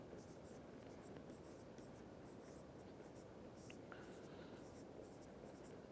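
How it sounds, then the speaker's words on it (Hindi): Soft scratching strokes of someone writing on a board during a lesson, faint and close, over a steady hiss of room noise. "यही लिख देता हूँ मैं"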